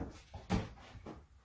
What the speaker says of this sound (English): the freezer door